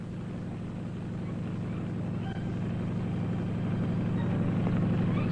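A helicopter landing in a jungle landing zone, a steady low rotor thrum with an even chopping pulse, loud and sustained and growing slightly louder.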